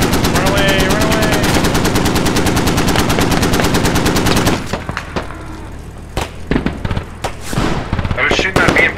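M240G machine gun firing in a military video game, a long loud rapid burst of evenly spaced shots for about four and a half seconds, followed by scattered single shots and battle noise.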